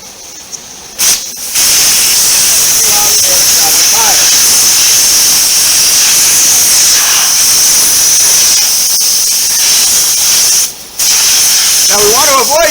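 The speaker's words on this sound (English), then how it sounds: "we need to let the air out of the tire" Loud, steady rush of air hissing out of a car tire's open valve stem after the valve core is removed with a valve core tool, broadband and continuous, briefly cutting out twice.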